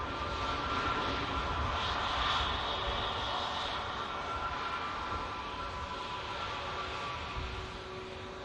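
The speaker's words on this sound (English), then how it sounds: "Lufthansa arrives in." A Lufthansa aircraft arriving at Manchester Airport produces a steady broad engine roar that swells slightly and then slowly fades, heard from a distance as a continuous wash of noise.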